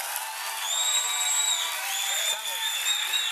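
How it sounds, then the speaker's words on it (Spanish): Studio audience claps for Manuel on a television show, a steady broadband clapping texture throughout, with voices and shouts mixed in. "Un aplauso para Manuel."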